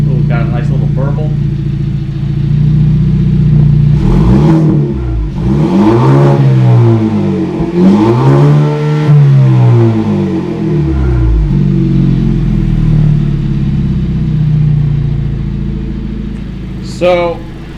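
A 2021 Kia Stinger with a Magnaflow cat-back exhaust, raised on ramps, is revved several times: deep, throaty rises and falls over a loud idling rumble, close by.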